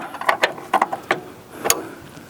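A ratcheting wrench turns a 14mm upper control arm bolt on a 2003–2007 Honda Accord, giving short bursts of sharp, close metallic clicks separated by brief pauses.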